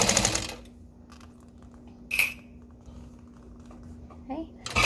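A sewing machine stitches a vinyl strap in short, quick bursts separated by pauses, over a steady low motor hum. A soft voice is faintly present in the background.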